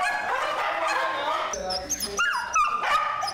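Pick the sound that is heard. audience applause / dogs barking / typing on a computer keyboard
dogs barking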